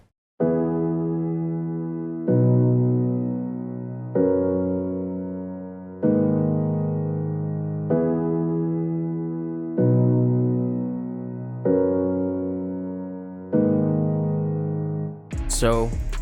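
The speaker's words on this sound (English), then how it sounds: "So for this piano sound, I'm using Contact Noir library, which is very good library for the piano." A sampled piano from the Contact Noir library plays a slow sequence of eight sustained chords, each struck and left to decay, in an emotional progressive house track, ending in a brief burst of noise, with no talk.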